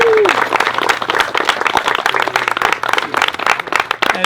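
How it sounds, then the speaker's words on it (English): Applause from the audience at a wetland dedication ceremony in Fairfield, Iowa: brisk, close clapping from a modest crowd, steady and fairly loud, with a short vocal tone at the very start. "Let's hear another round of applause for Dave and Sheri"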